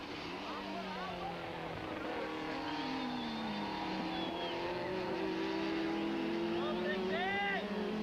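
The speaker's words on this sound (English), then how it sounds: "Briggs is through the hairpin for the last time, and both Joubert and van der Linde look to have given up the chase" Super touring cars, an Opel Vectra and a BMW, race at a South African circuit in 1995, their engines whining and shifting pitch through a hairpin, with a commentator talking over the continuous roar.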